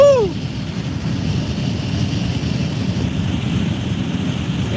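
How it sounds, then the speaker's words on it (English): Strong derecho storm wind of about 80 mph roars steadily and loud, buffeting the microphone with heavy low rumble throughout. A brief whoop-like voice sounds at the very start. "80-mile-an-hour wind."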